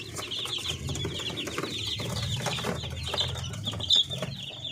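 Parawakan native chickens cluck and chatter in a small flock, several birds calling over one another at close range with a brief louder squawk near the end.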